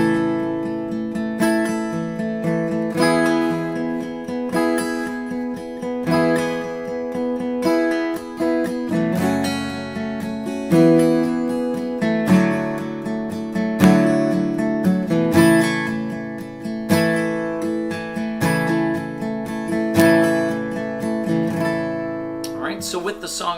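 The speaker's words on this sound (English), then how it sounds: "Strum all strings on beat 1." Acoustic guitar strummed across all strings in a steady pattern, bright full chords ringing continuously for over twenty seconds at a close, even level with no talking.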